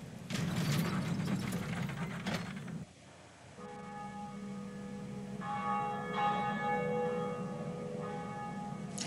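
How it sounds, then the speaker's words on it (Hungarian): A bell is rung in the video game Dark Souls Remastered: grinding, ratcheting mechanism noise comes first, then sustained, resonant bell tones swell and linger with metallic overtones. "hogy megszólítsam a harangot"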